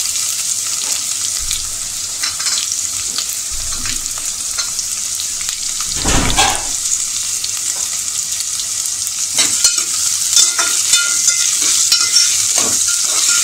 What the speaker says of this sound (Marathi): कांदा टाकूया. हा एक मी मोठा कांदा चिरून घेतला आहे.